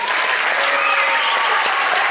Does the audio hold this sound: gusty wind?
no